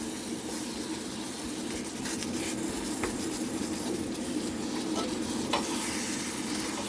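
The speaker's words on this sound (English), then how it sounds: "And I am going to just keep stirring it." Keto taco meat sizzles in a small pan, a continuous close frying hiss with occasional soft scrapes as it is stirred, steady and moderately loud throughout.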